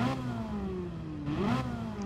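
Cars accelerating in a video-game drag race, likely a Ferrari 458 Italia, Ford GT or Mercedes SLS AMG: a steady mid-pitched engine drone rising in pitch, dipping at a gear change, then climbing again, fairly loud with no talk.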